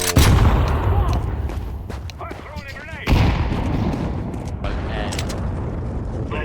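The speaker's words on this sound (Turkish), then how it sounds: "Burada bomba patladı." A bomb detonates in the video game Counter-Strike, a loud booming blast with heavy rumble and gunfire-like crackle filling the whole stretch, swelling again midway, while a player talks over the chaos.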